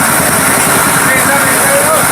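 Motorcycles moving slowly along a muddy road, their engines giving a steady, close rumbling drone with a heavy wash of broadband noise throughout.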